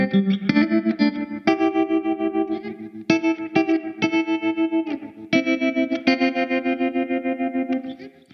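An electric guitar runs through a BBE Tremor tremolo pedal set to slow speed and high depth, with Wampler Faux Tape Echo slapback and a Chase Tone Secret Preamp. Chords pulse in steady rhythmic volume swells, loud and alone.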